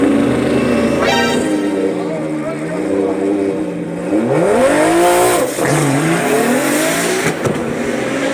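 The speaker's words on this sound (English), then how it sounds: "It is spinning the tires." A drift car spins its tires at a drag race launch, the engine droning loudly and rising in pitch, with tire noise and excited voices talking over it throughout.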